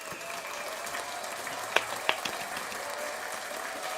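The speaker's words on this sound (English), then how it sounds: "dude, you're on and we got to clap" Sparse clapping on a live sports podcast, a few isolated hand claps standing out over a steady background hiss, close but thin rather than a full crowd.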